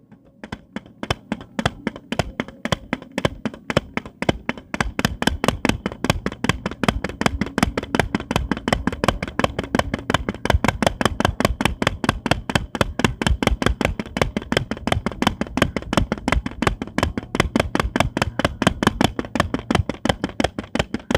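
Paper and cardboard struck by hand imitate a fodder chopper, a fast, steady stream of loud, close, sharp chopping taps repeating evenly throughout, with no talk.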